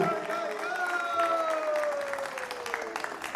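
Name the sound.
audience applause at a music festival concert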